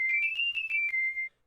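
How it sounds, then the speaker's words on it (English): A whistled tone used as a musical instrument in an a cappella piece holds one clear high pitch with a rhythmic, pulsing attack for just over a second, then stops. "Remember our cool little instrument we made out of whistling?"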